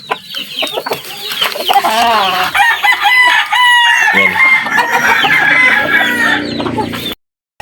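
Hens and roosters in a small backyard coop cluck steadily and loudly, with crowing mixed in, close to the listener, while a person speaks briefly over the birds.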